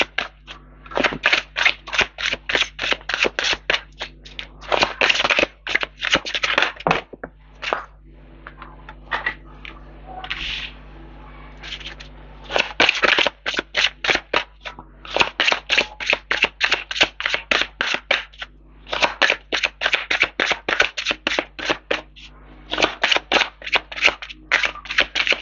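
Tarot oracle cards are shuffled by hand in quick, dense riffling bursts, each run of crisp flicks followed by brief pauses, repeating throughout and close up.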